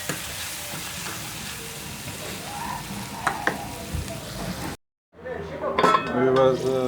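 A spoon clinks and scrapes in a pan while chicken macaroni masala with soy sauce is stirred. The mixture sizzles steadily, with sharp metallic knocks, a brief cut to silence, and then louder frying and clatter.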